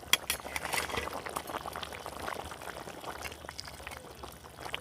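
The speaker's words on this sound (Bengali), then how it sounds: "আর ঢাকনা দেবো না, এইভাবে একটু ফুটিয়ে নেব, তারপরে নামাবো।" Fish curry with cauliflower and peas bubbling in an open pan: dense, irregular popping and blipping of boiling liquid, fairly close, with a sharp clink at the very start.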